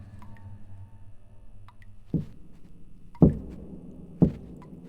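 Three careful knocks on a bathroom mirror in a quiet room, spaced about a second apart, with the second and third knocks sharper and louder than the first.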